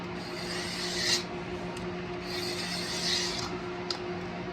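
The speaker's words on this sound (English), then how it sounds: "Just make sure you tilt your blade in the direction that you're scraping." A blade scrapes along guitar fretboard binding in short, repeated rasping strokes, close and fairly quiet, with a faint steady hum underneath.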